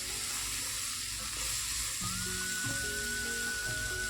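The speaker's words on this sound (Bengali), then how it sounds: "আমার ভিন্ডিগুলো হালকা হালকা করে ভাজা হয়ে" Okra fries in a pan, a continuous close sizzle and hiss running throughout with a faint steady tonal hum underneath.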